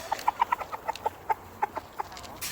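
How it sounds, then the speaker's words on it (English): Several farm chickens cluck in quick, uneven bursts close by, with short repeated calls overlapping for a couple of seconds and nobody talking. "Look how many chickens just came to us."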